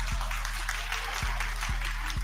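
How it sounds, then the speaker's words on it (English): An audience claps in a steady wash of applause, moderately loud, with a low hum and a few faint thumps underneath and no clear speech. "Clap if she needs the ring."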